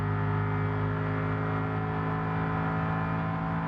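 A Porsche 4-litre biturbo V8 engine in the BeamNG Drive game drones at a steady high pitch, holding close and loud throughout with no talk.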